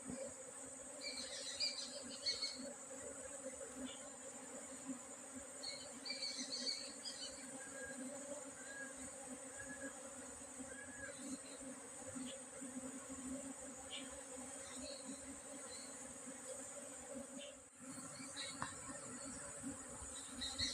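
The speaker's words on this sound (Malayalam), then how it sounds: "ഇതാ മരത്തിലുള്ള തേനീച്ച എല്ലാം കയറി" A dense, steady buzz of many honeybees swarming from a tree branch into a hive box hums continuously, with occasional higher buzzes passing close by; no talking.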